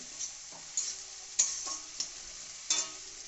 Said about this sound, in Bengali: ছোট ছোট করে টমেটো কেটে রেখেছিলাম টমেটোটা দেওয়া হচ্ছে দিয়ে নাড়াচাড়া চলছে